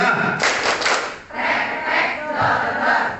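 A class clapping exercise, a group's hands clapping in a loud, fast pattern, the claps blurred together with voices chanting over them.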